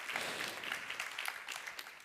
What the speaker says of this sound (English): I think we can applaud for that provocative suggestion.